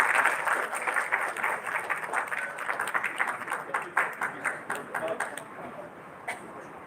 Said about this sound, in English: big round of applause for sir,